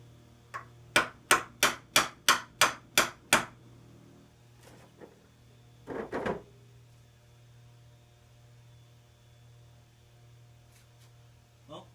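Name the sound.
tapping on moto4 engine case during bottom end disassembly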